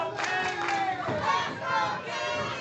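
A wrestling crowd at a Texas independent pro wrestling show cheers and shouts in a steady, loud wash of voices, with a commentator talking over the noise.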